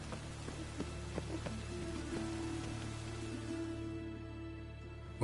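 Steady, soft rain hiss in a video game, a faint even patter with a low hum beneath and a few light taps scattered through.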